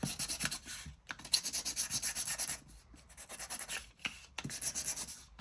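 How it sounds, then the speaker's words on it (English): Paper card edges get a light sanding by hand, a steady series of quick rasping strokes in short bursts with brief pauses between, close and alone. "so I'm just going to do just a teeny weeny bit of sanding"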